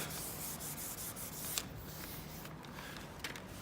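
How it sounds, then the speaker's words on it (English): Quiet, steady rubbing and scraping of sandpaper sanding the edges of Super Seal filler, soft and continuous with a couple of small knocks. "you can then go on to sanding off any edges you might have."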